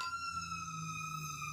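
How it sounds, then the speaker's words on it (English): A fire engine siren wails steadily at a distance, a faint sustained tone drifting past with no voices over it. "I'm sorry if you hear fire engines going by"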